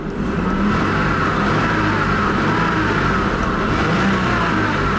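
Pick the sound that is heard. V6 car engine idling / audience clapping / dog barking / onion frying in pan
V6 car engine idling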